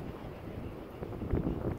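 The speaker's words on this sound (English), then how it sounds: "Windy, windy." Strong wind buffets the microphone at a campsite, a steady rumbling roar that swells slightly toward the end, with no voices.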